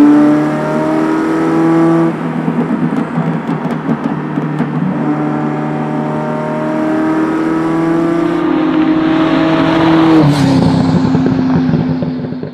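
A Ferrari F40 engine revs up and accelerates, its pitch climbing steadily, loud and close, then shifting gear near the end.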